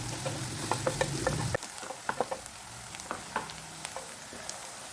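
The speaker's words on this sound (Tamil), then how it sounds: "பொன்னிறமாக மாறுற அளவுக்கு வெங்காயத்தை நல்லா வதக்கிக்கணும்" Chopped onions sautéing in hot oil in a kadai with curry leaves, a soft steady sizzle under a string of sharp scraping and stirring clicks from a spatula, with a louder hiss in the first moments before it settles.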